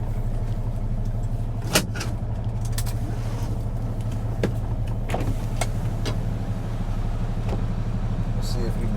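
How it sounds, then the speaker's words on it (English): Heavy haul truck with a trailer carrying a Volvo L120 wheel loader, reversing on muddy ground: a steady low engine drone heard from inside the cab, with scattered clicks and knocks over the rumble. "So I think we'll just back in next to that other trailer."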